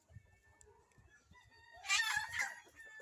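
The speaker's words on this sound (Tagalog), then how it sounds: "Tapos nandito ang mga layer natin." Laying hens, DeKalb White layers kept on a small farm, clucking and crowing in a short chorus that swells loud near the end, with softer scattered bird calls before it.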